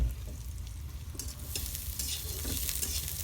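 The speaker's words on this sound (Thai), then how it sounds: "เอากระเทียมลงไปทอด ไปผัดให้มันหอมก่อ" Garlic sizzles steadily in a hot pan while being stir-fried, a continuous close frying hiss broken by occasional scraping of the utensil against the pan, with no talking.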